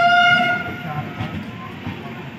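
The Kanpur Amritsar superfast express, train 22445, arrives at platform 4 of Unnao junction, its horn sounding loudly at first before fading into the rumble of rolling wagons nearby.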